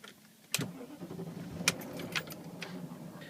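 A BMW E39 car, with sharp clicks and a key-turn, then the engine cranks and catches into a quiet, steady idle close by, with a few more clicks along the way.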